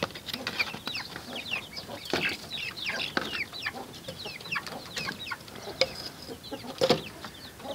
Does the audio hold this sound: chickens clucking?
yes